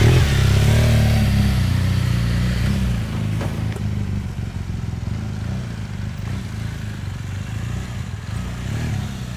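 A BMW R1200 motorcycle rides along a city street in Londrina, with a deep, steady engine drone that is loudest at the start and then settles into a continuous rumble with road noise.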